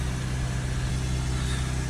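A Citroen Relay with a 2.2 diesel engine running nearby, holding a steady, rough low drone with no clear rise in revs across the short stretch.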